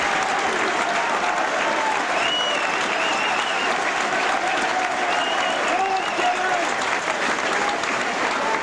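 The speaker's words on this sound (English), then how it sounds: "Again, a good round of applause, Terry Flanagan, from the Oldham supporters." Oldham supporters at a rugby league match applaud a substituted player, a dense sustained crowd clapping with cheers, steady and loud throughout, as a commentator talks over it.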